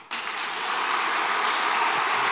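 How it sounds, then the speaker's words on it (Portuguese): A church congregation applauding the mothers of the church during a service, a soft, steady rain-like patter of clapping that starts abruptly and holds evenly at moderate distance. "Eu quero pedir um aplauso a todas as mães da igreja e da terra"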